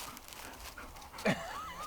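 A wet, dirty dog at an off-grid cabin gives a short whine and a brief yelp up close, with light panting and movement around it.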